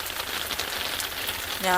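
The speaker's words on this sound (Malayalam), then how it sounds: "നല്ല മഴയാണ് കേട്ടോ" Heavy night rain falling on a Bangalore street, a dense, even hiss of rain hitting surfaces, close and steady throughout the brief moment.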